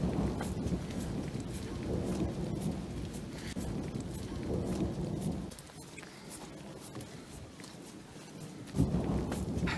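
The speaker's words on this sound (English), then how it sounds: "It's thundering out there." Thunder rolls outdoors near a village in Asia, a long, low, steady rumble with a rain-like hiss over it. It eases briefly midway, then swells again with a sharper crack near the end.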